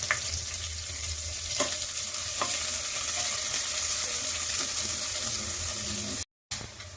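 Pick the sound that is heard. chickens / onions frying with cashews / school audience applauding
onions frying with cashews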